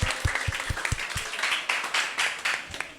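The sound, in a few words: audience applause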